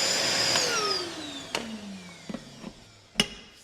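A shop vacuum hooked up as a blower in a woodworking shop whines loudly, then its pitch falls steadily as the motor spins down, with a few sharp knocks and clatters near the end and no talking.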